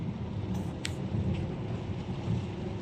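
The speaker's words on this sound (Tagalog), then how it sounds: "Lakas ng ulan, walang tigil." Heavy, nonstop rain pours steadily outdoors, a constant dense hiss with low rumbling underneath, heard at moderate distance with a few faint higher chirps or clicks cutting through.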